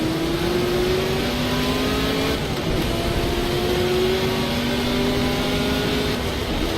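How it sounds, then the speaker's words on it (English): A Ford race car engine in a racing video game, roaring deep and steady as it holds high revs, with a smooth sustained drone and slight pitch shifts as it accelerates. "Lovely deep roaring engine!"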